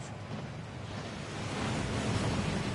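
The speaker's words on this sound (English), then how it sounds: "That waterfall washes away all enchantments." A rushing waterfall at Gringotts in a Harry Potter video game, a broad steady roar of falling water that swells slightly toward the end, heard alone without speech.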